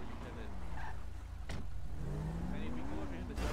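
Stolen car pulling away in a video game: a steady engine hum rising in revs as it drives off, fairly quiet beneath talking voices.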